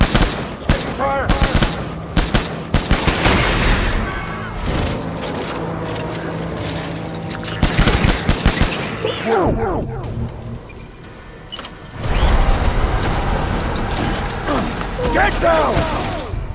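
Gunfire in the video game Death Stranding comes in loud, rapid bursts of automatic fire and mechanical clatter, with quieter gaps between volleys and voices occasionally heard in the mix.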